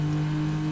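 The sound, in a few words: Toyota Supra engine bouncing off rev limiter, Assetto Corsa video game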